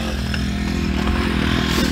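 A four-wheeler ATV engine restarting after stalling, a rough sputtering motor rumble that runs loud and close for a couple of seconds.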